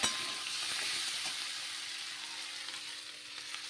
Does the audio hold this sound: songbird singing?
no